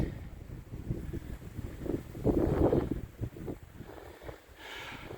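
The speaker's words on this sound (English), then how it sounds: "Hopefully the wind is not too much" Wind gusts steadily outdoors beside apple trees still bearing fruit, a broad rushing rumble that swells midway and then settles, with light rustling throughout.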